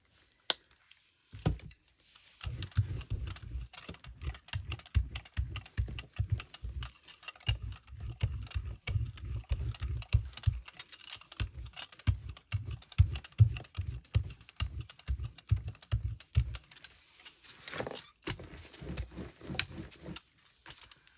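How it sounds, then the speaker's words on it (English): A paint roller (brayer) rolls out a layer of paint on a gel printing plate, giving a close, rapid, rhythmic tacky rattle in repeated bursts with brief pauses between passes, alone without talk. "So I'm going to start by rolling out a nice good layer of paint."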